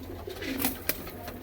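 A pigeon, a male Madrasi breed with a long face, gheri eyes and katdar nafte markings, coos in short throaty bursts close by, over a steady low hum.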